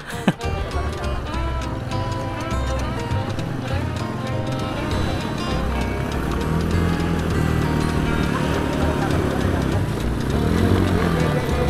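Motorcycle ridden across a crossing in a hot village, engine droning steadily and rising slightly as it moves, with people talking over it and an abrupt knock near the start.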